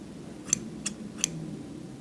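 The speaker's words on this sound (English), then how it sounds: "I want you to let me know how many times you hear the scissors clack together." Scissors snip shut three times in close-up ASMR style, giving crisp, isolated clacks spaced about a third of a second apart over a quiet, soft background.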